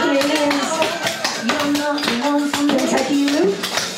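Clogging dance steps at home: rapid, loud taps and stomps on the floor in a steady, busy rhythm, layered with a caller's voice and a sustained musical tone.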